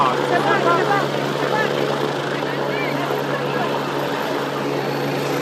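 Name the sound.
inside an army rescue helicopter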